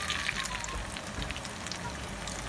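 Potato pancakes fry in a pan with a quiet, continuous crackle and hiss, faint and unbroken throughout.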